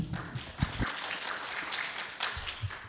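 Light, scattered clapping from a symposium audience welcoming a lecturer, fairly soft and steady for about three seconds, with a few sharper isolated claps.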